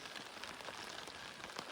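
Light drizzle patters steadily on a forest campsite on a cool summer afternoon, a soft, even hiss of fine drops with no voices.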